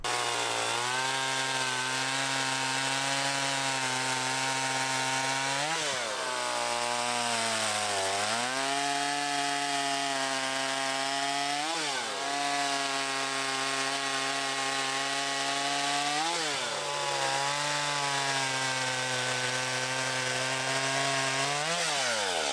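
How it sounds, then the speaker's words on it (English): A small Stihl chainsaw runs steadily up close, its engine pitch dipping and rising several times as it bites into firewood and revs back up. "I got a new chainsaw that I want to test out today."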